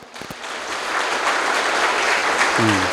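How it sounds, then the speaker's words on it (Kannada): A crowd claps steadily and loudly at a spiritual discourse, a dense wash of applause that builds after a couple of sharp claps and continues to the end. "ಜೋರು ಚಪ್ಪಾಳೆ ತಡ್ರಿ"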